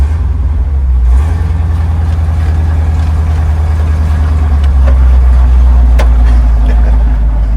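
A 1957 Chevy 3600 pickup truck's engine rumbles deep and steady as it pulls away, heard loud from inside the cab over a constant low drone.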